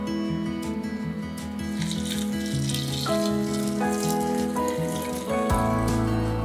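Boiling water poured over dried butterfly pea flowers to brew them, a steady gushing, splashing pour that runs continuously at close range and swells louder toward the end, with no voices.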